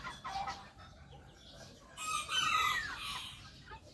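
Rhode Island chickens clucking nearby, a run of short squawks and cackles that rises into a louder, drawn-out call midway, over faint farmyard background.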